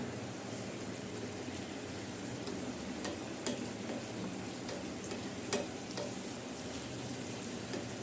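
Whole hilsa fish in mustard paste frying in a pan, a steady close sizzle and bubbling with a few soft clicks of utensils, continuous and without voices.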